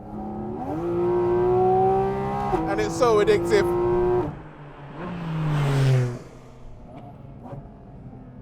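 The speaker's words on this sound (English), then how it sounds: "you get a surge of intake noise about 10 inches from your head" A loud Porsche 718 Cayman GT4 RS engine drone with stepped pitch rises as the car accelerates, then an intake-noise surge from just behind the cabin swells and fades, with a brief voice speaking partway through.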